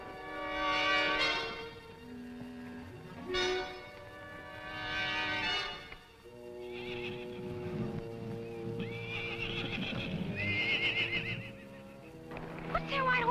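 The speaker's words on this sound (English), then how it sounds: "What's that white horse up to?" Horses whinny loudly several times, high shrill neighs rising and falling, with a rumble of movement and faint hoof clatter beneath, no talking.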